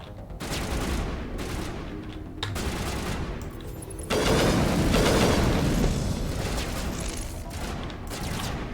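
Gunfire in the video game Mass Effect, including sniper shots, crackles in dense bursts and booms, loud and continuous, with a sharper intensified stretch midway through.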